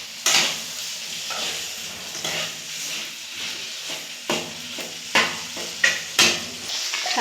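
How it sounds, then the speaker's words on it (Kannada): Mutton fries in a pan with ginger, garlic and tomato, a steady close sizzle broken by repeated scraping stirs of a spoon against the pan. "ಶುಂಠಿ, ಬೆಳ್ಳುಳ್ಳಿ, ಟೊಮೊಟೊ ಇವನ್ನಷ್ಟು ಹುರಿದಿಟ್ಕೊಂಡೇನ್ರಿ. ಬೇಸಿಗೆ ಮಟನ್ ಹಾಕ್ತೀನಿ."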